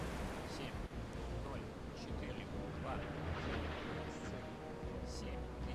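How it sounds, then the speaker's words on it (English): Missiles launching in a naval warfare strategy game, heard as a dense, continuous roar of rumbling blasts and surf-like wash that stays at a steady level throughout. "Big boy being fired off too. I can't believe how fast this is taking place. This is ×1 speed. These missiles are very fast."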